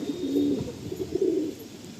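A small female pigeon, kept for sale at Sonarpur, coos softly nearby in two low, wavering phrases with a brief pause between them.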